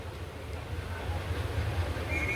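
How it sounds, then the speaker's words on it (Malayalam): A Kottayam–Ernakulam diesel passenger train pulls away from the second platform at Kottayam railway station, making a low, steady rumble with faint wheel noise that stays even throughout. "രണ്ടാമത്തെ പ്ലാറ്റ്ഫോമിൽ നിന്ന് ട്രെയിൻ അങ്ങനെ എടുക്കുകയാണ്."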